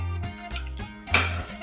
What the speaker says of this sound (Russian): делаем пюрешку